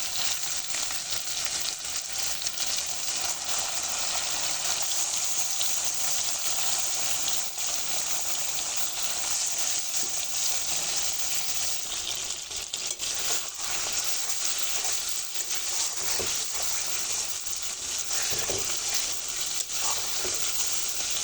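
Hilsa fish frying in hot oil spiced with a ground paste of cumin, onion and dried chili, a steady close sizzle throughout with occasional crackles and no talk.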